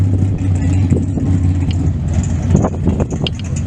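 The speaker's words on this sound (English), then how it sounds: "David, get the tires warmed up in that AFX Dodge." An AFX Dodge drag car warms its tires at a drag strip with a loud, steady engine drone. The revs swell and surge near the end, with no talk over it.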